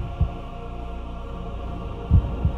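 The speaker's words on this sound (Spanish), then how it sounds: "se volvió a escuchar fuerte y claro el latido del corazón de Ankaria" Heartbeat sound effect in a fantasy game narration, a few deep, muffled low thumps, one single and then a close double beat, over a steady soft hum.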